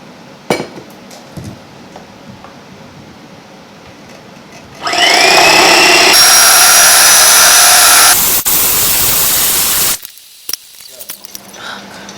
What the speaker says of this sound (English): I'm going to use this electric whisk or blender, because you have to like really go in on the whisking so it won't scramble.